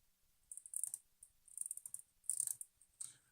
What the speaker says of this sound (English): So that tells us that we've got a good shutter.